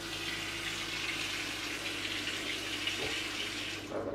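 Water runs steadily from an Enagic K8 water ionizer machine into a container, a continuous close hiss with no talking.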